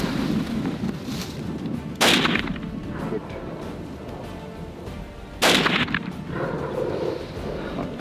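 Two sharp, loud rifle shots crack about three and a half seconds apart during a buffalo hunt in the Kalahari, each followed by a short rolling echo over quiet outdoor background.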